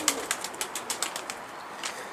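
Rapid bursts of wing flapping from a pigeon taking flight, a quick series of sharp clattering beats that trail off, fairly close.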